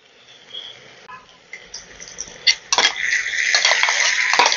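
Ground spices are being mixed into fried potatoes in a pan, with a utensil scraping and clinking against the metal, starting faint and growing busier and louder toward the end.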